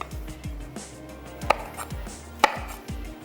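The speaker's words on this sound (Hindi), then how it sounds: "तो हरी मिर्चों को सेंटर से कट कर लेते हैं।" Green chillies being cut down the centre with a knife on a board, a rapid series of close, crisp chopping strokes with two sharper knocks.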